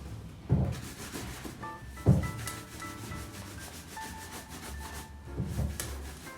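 Dust being brushed off Red Wing 8258 leather engineer boots, a series of close, brisk rubbing strokes with a few louder knocks and a faint tonal whine in the middle, with no talking.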